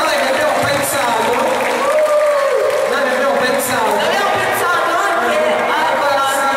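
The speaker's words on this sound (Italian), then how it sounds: "quindi vogliamo un applauso potente, forza?" An audience at a final evening show claps steadily, a sustained wash of applause under a loud voice talking over it.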